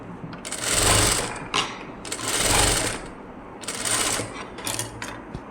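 Sewing machine stitching the neck lining of a blouse, running in three steady bursts with brief pauses between them, close and loud with no talking.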